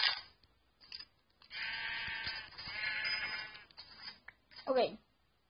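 Sheep bleating in the video game Minecraft, a few short game bleats heard amid busy gameplay sounds with a voice talking over them.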